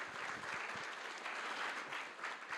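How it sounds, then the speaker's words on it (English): An audience in a large hall breaks into a warm round of applause, a dense, steady clapping that stays even throughout, heard at a moderate distance with no voices over it. "A warm round of applause."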